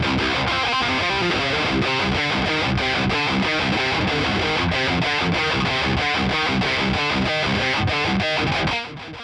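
Drop-tuned electric guitar played palm-muted through a JHS Kilt distortion pedal, a loud, tight, chugging metal riff with steady percussive rhythm that continues throughout and drops off abruptly at the very end.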